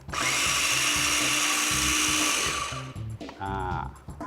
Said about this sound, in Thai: วันนี้ผมใช้เป็นคุกกี้รสช็อกโกแลตครับ ก็ใส่ลงไปในเครื่องบดสับครับ ปั่นให้เข้ากันดีนะครับ